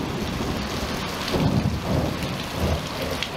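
A thunderstorm pours steady, hissing rain on surfaces, and deep rumbles of thunder swell up twice beneath the downpour. It sounds close and fairly loud throughout, with no voices.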